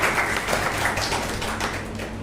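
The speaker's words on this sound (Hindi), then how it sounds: "मैं चाहूँगा जोरदार तालियों से उनका स्वागत करें।" Applause welcomes a district governor at a Rotary Club gathering, a dense steady wash of many hands clapping from a seated audience, continuing evenly throughout.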